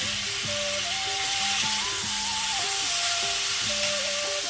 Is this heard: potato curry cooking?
yes